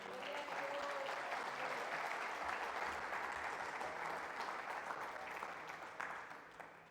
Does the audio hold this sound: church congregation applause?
yes